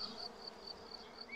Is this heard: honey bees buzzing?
yes